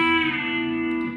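A B-bender electric guitar sustains a single bright note that is pushed up in pitch and eased back down, ringing alone and fading slowly.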